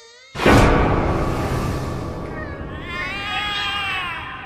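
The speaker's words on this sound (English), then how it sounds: "The cats are alarming." Cats in a video game let out a sudden loud, drawn-out alarmed yowl that swells and then wavers into overlapping meowing cries, lasting several seconds with no talk.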